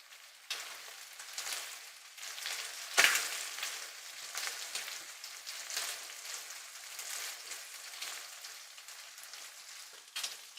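Chilli garlic prawns frying in a pan give a quiet, steady sizzle like light rain, with one sharper crackling burst partway through.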